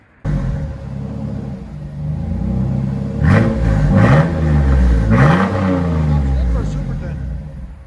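2000 Chevy S10 Xtreme V6 with dual Flowmaster Super 10 exhaust idling with a deep rumble, then revved three times in quick bursts before settling back to a loud steady idle, close to the tailpipes.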